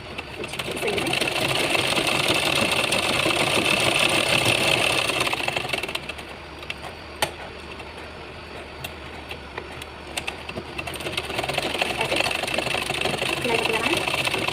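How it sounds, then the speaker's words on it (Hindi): A domestic sewing machine runs steadily while stitching long lines on a buckram bag strap, a loud continuous whirring hum that pauses partway through and then resumes, with no talk. "तो अब मैं इस वाली पट्टी पर स्टिच कर रही हूँ"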